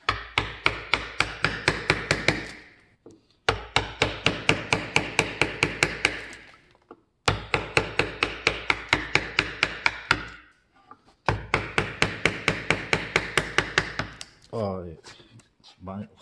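A fairly light hammer, likely a mallet, strikes steadily in quick, evenly paced bursts while a wooden plate is hand-carved with hand tools. The knocks are close and crisp, with short pauses between runs.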